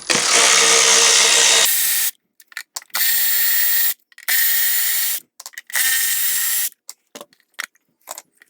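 Ratchet wrench loosening the 10 mm ignition coil bolts on a 2019 Honda Civic 2.0 engine, in several loud, close bursts of rapid clicking separated by short pauses and small taps.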